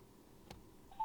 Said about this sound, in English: I will try to make a phone call to my wife